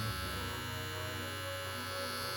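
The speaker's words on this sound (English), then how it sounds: "So let's turn this on and let's make a sound check of this trimmer." A Babyliss Pro Skeleton FX replica hair trimmer runs close by with a steady electric buzz and hum, constant and unbroken throughout.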